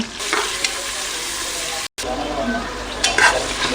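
Onion and green chilli fry in hot oil with garam masala for vegetable pulao, giving a constant close sizzle with a few stirring scrapes and a brief break partway through.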